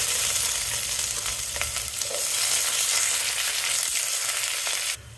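Green chillies and onions frying in oil for kushka rice, a steady loud sizzle with occasional stirring scrapes, continuous throughout and without speech.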